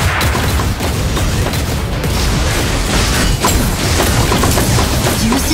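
Gunfire in the Super Mecha Champions video game, a dense, loud barrage of booming shots and impacts that continues steadily for several seconds with no pauses.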